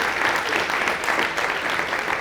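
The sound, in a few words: audience applauding the minister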